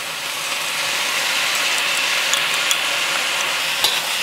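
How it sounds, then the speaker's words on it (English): Cabbage and wood ear mushrooms stir-frying in sauce for moo shu pork, producing a loud, continuous close-up sizzle and steam hiss with a few scraping clicks of the utensil. "Now we just want the cabbage to cook through, and the sauce will help to do that as it heats up and steams the cabbage."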